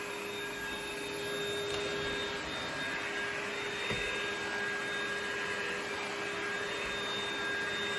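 A Lindhaus Valzer L-Ion cordless vacuum cleaner runs at maximum power, giving a steady, unbroken whirring roar with a faint tonal whine throughout, close to the microphone and with no talking.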